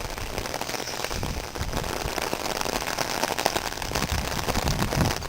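Dense, steady downpour during a thunderstorm with a constant broadband hiss and scattered sharp spatters, continuous for several seconds at a fairly even level.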